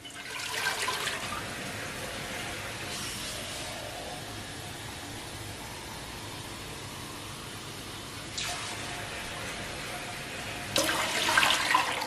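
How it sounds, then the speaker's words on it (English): Three cups of water are poured into a cooking pot for Caribbean-style Dominican pumpkin chicken soup, a close, steady splashing rush that comes in several bursts separated by quieter gaps, with no talking. "I'm going to start by adding 3 cups of water to my pot."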